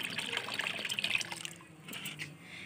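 Liquid fertilizer being mixed into a 20 litre bucket of water in a home garden, with a steady splashing, trickling pour for about a second and a half, then quieter sloshing.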